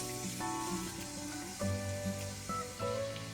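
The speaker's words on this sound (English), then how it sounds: "Quickly saute this in the oil." Three cloves of minced garlic sauté in hot oil, a steady close sizzle with faint stirring scrapes running through it, no voices.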